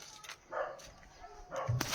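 A dog barks a couple of times out on rural farmland, short yelps rising over faint outdoor background with no talking.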